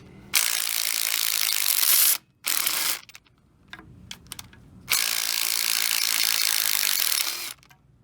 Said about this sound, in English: I'm gonna extract that bolt.